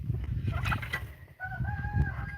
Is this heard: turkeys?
yes